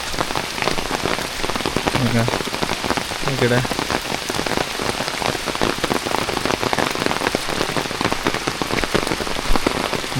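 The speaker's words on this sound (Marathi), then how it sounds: "आता फायनली पाऊस आला आहे" Steady monsoon rain pours down in rural Konkan farm country, a dense, even patter on surfaces that stays constant and loud throughout, with a brief word spoken partway through.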